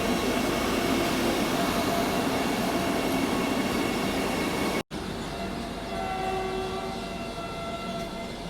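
A Vande Bharat Express passes close by, its rumble and rolling wheel noise loud and steady, cutting off abruptly, then a quieter rail hum with faint tonal squeals follows.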